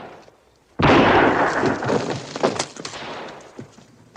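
A single loud, close gunshot from a big gun in a western film rings out with a sharp attack and a long, rumbling decay, followed by a few fainter scattered clatters.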